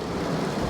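Heavy storm rain pours down on a road, a dense, loud, steady roar of downpour with no voices.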